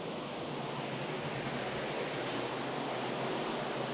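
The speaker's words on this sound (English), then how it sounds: "which still has water flowing through it, and you can hear the water." Water flows through an ancient tunnel in the City of David. A continuous, even rushing wash echoes softly in the enclosed space, faint but unbroken throughout.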